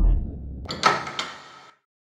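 A door opens in the horror video game Lost in Vivo, a short sliding, creaking rush with a sharp onset and a second knock, followed by a fading tail that cuts to silence.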